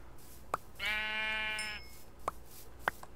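A sheep in the blocky survival game Terrafirmacraft lets out one drawn-out, nasal bleat lasting about a second, clear and close, with a few sharp clicks of game activity before and after.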